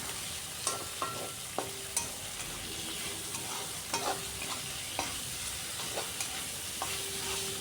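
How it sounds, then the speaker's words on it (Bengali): Sliced onions fry in hot mustard oil left over from frying chicken, a steady soft sizzle broken by regular clinks and scrapes of a spatula against the pan, with no voices. "পেঁয়াজটাকে একটু ভাজা ভাজা করে নিচ্ছি।"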